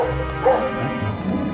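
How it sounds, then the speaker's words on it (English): A cartoon dog barks and yips at close range, a few quick excited barks over steady background music. "Another dog. Just what we needed."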